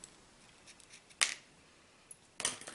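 Scissors snip card-making ribbon in two quick, crisp cuts about a second apart, close by in an otherwise quiet room.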